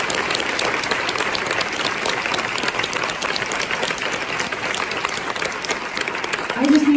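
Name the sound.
audience applause at quilt retreat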